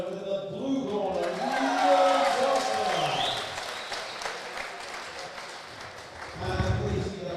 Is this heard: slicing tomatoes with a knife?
no